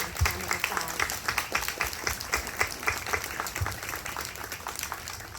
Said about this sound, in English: So we can give them a resounding round of applause.